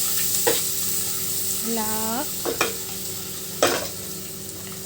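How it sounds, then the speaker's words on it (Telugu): Egg biryani masala frying in a pan with tomato paste and ginger-garlic paste, a continuous close sizzle broken by a few sharp scraping strokes of a spoon. A voice speaks briefly. "మసాలా బాగా వేగి టమోటో పేస్టు, అల్లం వెల్లుల్లి పేస్టు అన్నీ బాగా పోయి"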